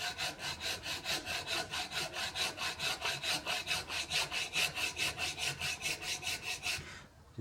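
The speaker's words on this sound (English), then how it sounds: "very gently with the second cut file." A second cut file works a radius on a metal part for a powered lathe slotter build, producing about two dozen even, rhythmic rasping strokes close by that stop abruptly at the end.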